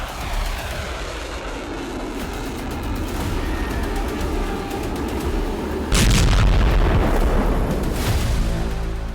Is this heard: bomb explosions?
yes